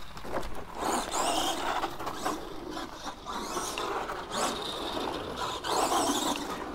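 A 1/10-scale Arrma Gorgon RC monster truck is driven hard, its electric motor whining and squealing in repeated bursts as it speeds up and slows, with rattling drivetrain noise throughout and no talking.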